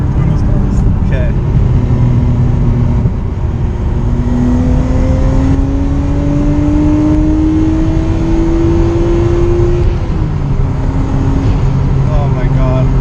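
Nissan Skyline R32 GTS-T engine pulls steadily in third gear, a loud, rising drone climbing in pitch for several seconds from inside the car, with occupants talking and exclaiming over it.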